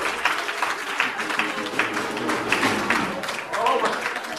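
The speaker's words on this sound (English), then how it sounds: "Somebody ought to clap your hands for the Lord." Dense, steady applause from a church crowd, many hands clapping at once with a few shouts rising above it, filling the whole stretch.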